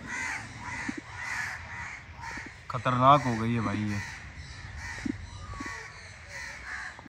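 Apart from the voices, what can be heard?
crows cawing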